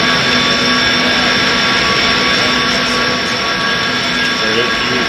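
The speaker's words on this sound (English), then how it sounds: "Sound like we did have another plane inbound here." A jet airliner's engines roar steadily and loudly inside the X-Plane 11 flight simulator, a constant broad wash of sound with a faint high whine throughout.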